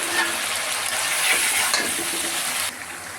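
Spices sizzle steadily in a hot pan: turmeric, chili, ginger, garlic, coriander and cumin powder fried for a bottle gourd and shing fish curry. The frying hiss stays loud and continuous throughout.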